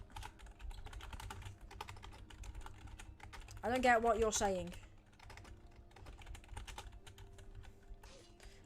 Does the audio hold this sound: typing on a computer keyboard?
yes